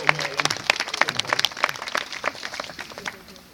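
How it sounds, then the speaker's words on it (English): Scattered applause from a sea lion show audience, uneven individual claps rising and thinning out, fairly close, with a few faint voices mixed in. "Give him a round of applause."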